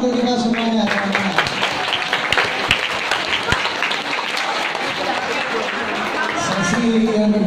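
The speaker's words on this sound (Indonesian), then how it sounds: "Oke, tepuk tangan untuk kita semuanya" Audience applause fills a debate hall, a steady dense wash of many hands clapping at close range, with a few sharper individual claps standing out and the ovation sustained throughout.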